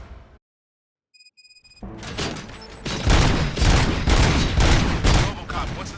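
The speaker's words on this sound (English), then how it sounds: "Gunshots?" Gunfire from the video game RoboCop: Rogue City erupts after a brief silence and a few electronic tones, building into loud, sustained rapid bursts of shots with booms layered through the rest of the clip.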